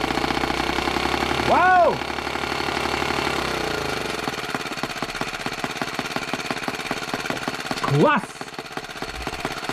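A Muravey motor scooter engine catches and runs with a close, rapid, rhythmic knocking idle that rises in a couple of revving sweeps, while voices briefly exclaim over it.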